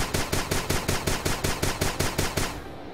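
Rapid automatic gunfire in the video game Starbound rattles in a steady stream of about a dozen loud, evenly spaced shots, stopping abruptly near the end.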